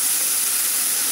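Very hot water poured into a pan of fish frying in oil, producing a loud, continuous steamy hiss that fills the whole moment without pause.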